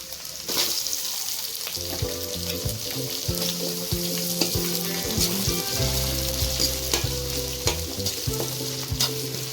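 Onion added to garlic and ginger frying in a pan for aloo gobi, a continuous loud sizzle with repeated clanks and scrapes of a stirring spoon against the metal.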